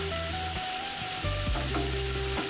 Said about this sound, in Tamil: இதெல்லாம் சேர்ந்தே வதங்கட்டும்.